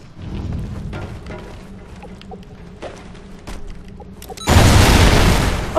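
A C4 charge detonates in Call of Duty: Ghosts Search and Rescue, a loud, sudden, hissing blast near the end that cuts through faint background gunfire and game ambience.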